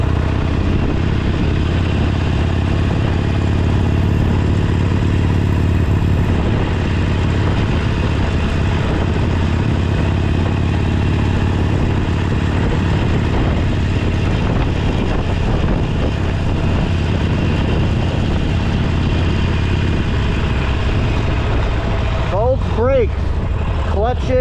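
Motorcycle engine running steadily through a long stretch, its drone rising and falling as gears are shifted, loud and close with wind noise and an instructor talking over it.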